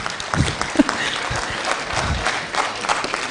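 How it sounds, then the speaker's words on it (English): Audience applause for a guest of honour at a youth gathering in Kenya, with a crowd clapping loosely and unevenly through the clip, fairly close and moderately loud, with some murmuring underneath. "Can we give His Excellency a round of applause?"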